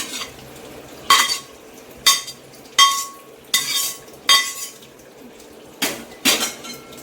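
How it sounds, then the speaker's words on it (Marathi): A metal strainer and cooking pots are handled in a home kitchen while homemade tutti frutti is prepared, giving about eight sharp, close metallic clinks and clatters at uneven intervals, with no one speaking. "हे बघा, मी चाळणी काढून घेतले।"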